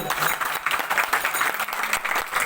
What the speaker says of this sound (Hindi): एक बार हमारे प्रांगण में बैठे सभी भक्तों के लिए जोर से ताली बजाइए आप लोग